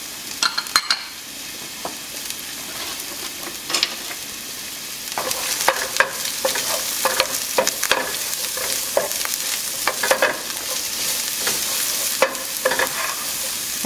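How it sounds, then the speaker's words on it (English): Garlic and onion sauté in a hot pan for Mexican chile rellenos, giving a steady bright sizzle with repeated scraping stir strokes and occasional utensil clicks, close and fairly loud, with no talking. "you're gonna add and saute your garlic and your onion"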